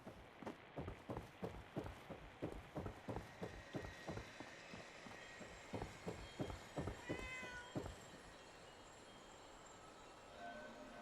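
A cat meows repeatedly in Fallout 4, a rapid series of short, fairly loud mews in a steady rhythm for several seconds, then quieter game ambience with no talking.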